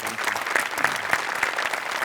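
An audience on a Marathi comedy sketch show applauds warmly, a steady wash of clapping with a few sharper individual claps standing out, unbroken by speech.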